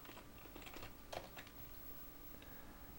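Quick bursts of keystrokes on a computer keyboard, close and fairly quiet, with a denser cluster of clicks near the middle and soft room noise underneath; no one speaks.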